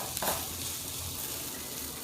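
Potato hash with garlic sizzles steadily in a pan, a close, even frying hiss with faint stirring, running continuously with no voices.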